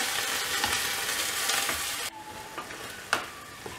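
Brinjal, drumstick and cooked cowpeas are stir-fried together in a pan, with a loud sizzle that drops suddenly halfway, followed by a few sharp clinks of a spatula.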